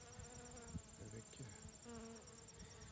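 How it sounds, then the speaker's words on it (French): Domestic honeybees from nearby hives hum steadily around flowering chives in a garden, a faint continuous insect buzz with a few brief murmurs of speech in the background. "Il y a des ruches d'abeilles domestiques juste ici à côté."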